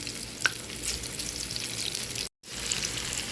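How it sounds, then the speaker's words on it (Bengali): Sliced pointed gourd fries in olive oil in a frying pan, giving a steady, close sizzling crackle with a sharp pop near the start and a momentary dropout near the end. "এখানে ফ্রাই প্যানে আমি অলিভ অয়েল তেল দিয়ে দিয়েছি এখন এখানে পটলগুলো দিয়ে পটলগুলো ভেজে নিব"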